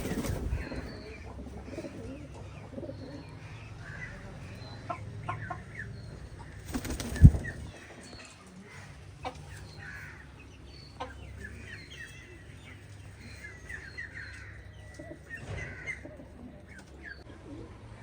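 Silkie chickens cluck softly in a yard with scattered chirps and a brief flutter of wings, against steady outdoor background noise.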